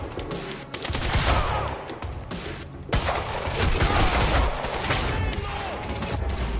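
Rapid bursts of automatic gunfire in the video game Quantum Break on Xbox Series X crackle continuously and loudly, with a sharp break near the three-second mark before the firing resumes.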